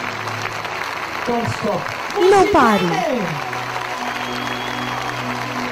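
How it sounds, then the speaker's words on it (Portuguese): A church congregation claps continuously through a worship service, a steady wash of applause beneath a loud voice shouting over it. "Vamos aplaudir a Jesus para sempre."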